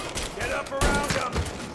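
Gunfire rattles in Mafia Definitive Edition as a few sharp shots and short volleys, mixed with shouting voices and tonal background score.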